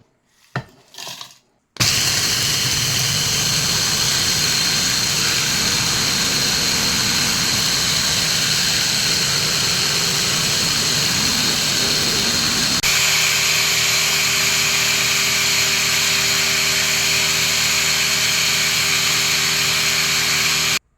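Electric grinder whirring through freeze-dried strawberries, starting after a brief knock or two with a loud, steady high-pitched motor roar that shifts into a smoother, tonal whine partway through before cutting off.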